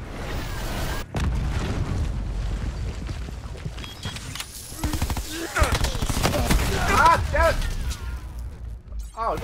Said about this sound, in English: Enemy hellstorm detected.